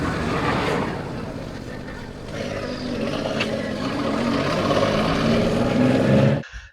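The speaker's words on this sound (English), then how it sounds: "It's like mechanical thing. It's like something is being hammered, you know, like toof, toof." A 2025 Yamaha MT-07 motorcycle engine running close by with a rough, uneven mechanical knocking in its steady drone, like something being hammered, holding until the sound abruptly cuts off at the end.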